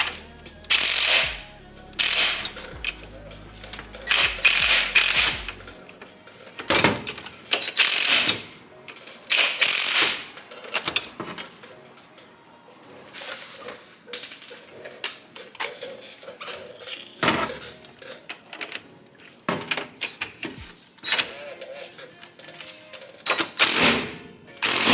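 A ratchet wrench tightens bolts on a 1987 Toyota 4Runner with Loctite on the threads. Loud bursts of rapid clicking repeat again and again with brief pauses between them, close up and with no voices.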